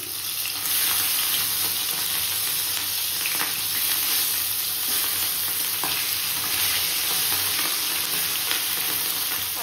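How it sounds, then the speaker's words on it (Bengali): A fish head sizzles and crackles in hot oil, a steady close frying hiss with occasional sharper pops. "এই যে মাছটাকে ভাজা বসিয়ে দিয়েছি"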